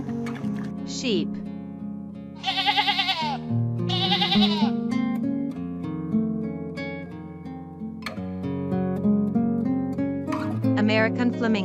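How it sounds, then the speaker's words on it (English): Sheep bleating over a music bed, several wavering calls at separate moments, moderately loud within a busy mix of animal sounds. "Sheep."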